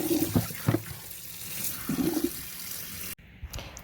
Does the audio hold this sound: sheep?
no